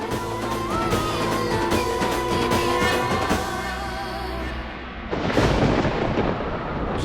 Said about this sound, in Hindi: बहुत बड़ा भयानक तूफान आने वाला है।